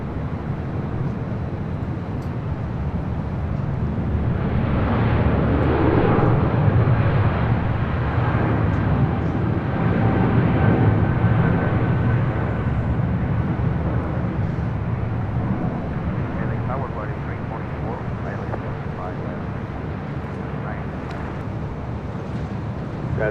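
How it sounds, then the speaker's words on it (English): A Boeing 777 airliner rolls for takeoff at LAX, a broad distant jet roar that swells and then holds steady, blended with wind noise and no talk. "777 now rolling."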